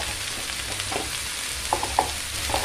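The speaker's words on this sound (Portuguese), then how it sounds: "E aqui a gente refoga bem essas verduras, esses legumes" Vegetables sauté in a pan with a steady sizzle and a few light scraping stirs near the end, close and unaccompanied by talk.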